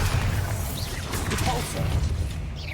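A Bombarda blasting spell explodes in Hogwarts Legacy, a dense, roaring crash with a heavy rumble that fills the whole moment amid chaotic battle noise.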